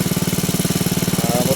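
A motorcycle engine putters nearby in a fast, even, pulsing rhythm, loud and steady like a running idle rather than climbing revs.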